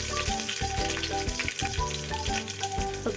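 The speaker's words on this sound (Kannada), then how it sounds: "ಇವಾಗ ಒಣಗಿದ ಮೆಣಸಿನಕಾಯಿ ಹಾಕ್ತಾ ಇದ್ದೀನಿ. ಮತ್ತು ಜಜ್ಜಿಟ್ಕೊಂಡಿರೋ ಬೆಳ್ಳುಳ್ಳಿ ಹಾಕ್ತಾ ಇದ್ದೀನಿ." Dried red chilies and crushed garlic fry in hot oil with mustard seeds, giving a steady close sizzle with small crackles and spatters throughout, no talking.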